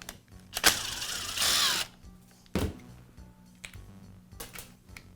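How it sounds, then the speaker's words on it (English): A cord clamp is removed from a Makita demolition hammer with a power screwdriver, heard as a short whirring burst and several clicks and clunks of tool and parts handling, close and fairly quiet, with no speech. "Now I'll remove the cord clamp."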